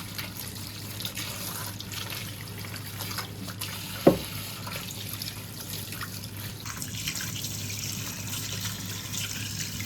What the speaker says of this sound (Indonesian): Saya suka sekali cuci sayur sebelum dipotong-potong kayak terong